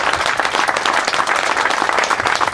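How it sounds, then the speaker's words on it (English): Loud, sustained applause for veterans at an outdoor Brookline honor roll dedication ceremony in Pittsburgh, many hands clapping in a thick continuous wash close by. "You all deserve a big round of applause for your service."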